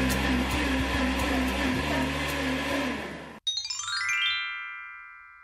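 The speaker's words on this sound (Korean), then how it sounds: "물 한 컵과 그리고 메이플 시럽 적당량을 믹서기에 함께 넣고 갈아주시면 됩니다" A kitchen blender whirs loudly and steadily as it purees lemon, carrot, water and maple syrup into juice, then cuts off abruptly and is followed by a bright, ringing electronic chime that fades away.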